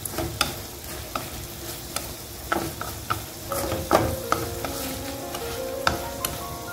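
Braised pork with shrimp paste and fresh chili stir-fried as the sauce thickens, a steady close sizzle broken by repeated sharp clicks and scrapes of a utensil against the pan.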